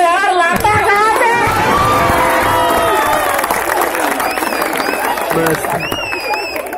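An audience at a Hindi comic poetry recital (hasya kavi sammelan) in Darbhanga claps and cheers, a loud, steady wash of applause mixed with raised voices and crowd chatter.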